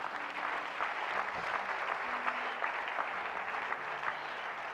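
A church congregation breaks into sustained applause, a dense, even wash of clapping from many hands that continues steadily throughout with no voices standing out.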